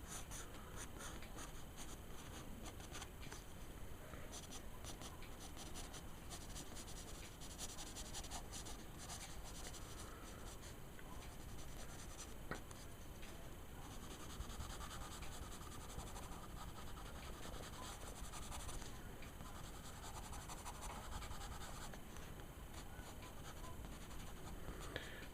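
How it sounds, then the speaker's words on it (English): A 3B pencil drawing and shading on paper: continuous faint scratching and rubbing strokes, very quiet and close, with steady back-and-forth texture and no pauses. "I'm using a 3B pencil here."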